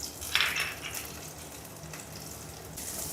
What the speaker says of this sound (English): Once the pan is hot, garlic in, ginger, and dried chilies.